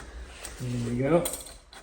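Ratchet snugging a bolt on a Honda XL500 engine during a piston ring replacement, a short run of close clicking strokes in a quiet workshop.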